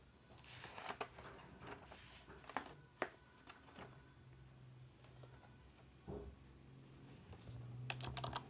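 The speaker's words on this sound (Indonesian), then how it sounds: "terus kita ketikkan" Typing on a computer keyboard while entering commands into Notepad, with bursts of close, quiet key clicks spread unevenly across the stretch and no speech.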